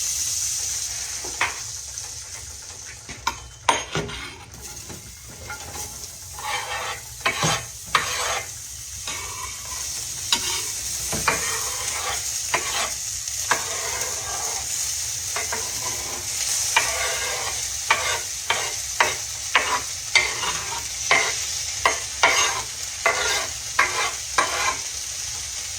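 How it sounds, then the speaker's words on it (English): Onions fry on low heat in a pan for hamburger steak with onion gravy, giving a steady close sizzle. Frequent scraping strokes from stirring are heard throughout, with no talk. "I'm going to turn this down real low. And I'm going to put my onions in it"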